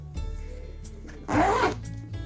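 A zipper is pulled on a small fabric baby toiletry bag, one quick close rasping run of the teeth, preceded by faint handling rustle and quiet room tone.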